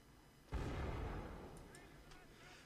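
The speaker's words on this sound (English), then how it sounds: "Another strike from the mortar right in the centre, just outside the wall" A mortar shell strikes near a fortress wall during a siege battle in Mount and Blade Napoleonic Wars, a single heavy boom followed by a rumbling decay with faint distant shots.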